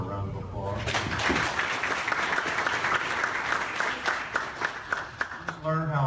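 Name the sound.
audience applause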